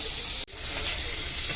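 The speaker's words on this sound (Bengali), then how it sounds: "চিংড়ি মাছটা ভেজে চিংড়ি মাছটা ভাজা হয়ে গেলে একটু পেঁয়াজ কুচে দেবো" Prawns rubbed with salt and turmeric fry in hot oil, giving a loud, steady close sizzle that cuts out for a split second and then resumes just as dense.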